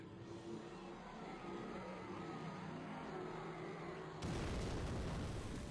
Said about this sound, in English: But listen to the sound of this explosion.